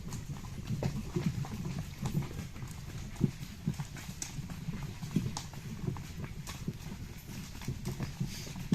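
Horse hooves clip-clop in a steady walking rhythm on soft, wet, muddy ground after rain, moderately close, over faint background noise and no talking.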